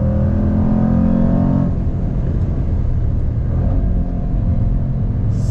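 A 2021 Jaguar F-Pace SVR performance SUV accelerates hard, its engine a loud, steady, close rumble that drops slightly in intensity partway through, with no talking.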